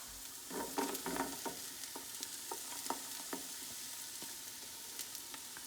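Celery and green pepper sauté with golden garlic in a pan, giving a faint, steady sizzle with soft scraping stirs and a few clicks of a utensil against the pan.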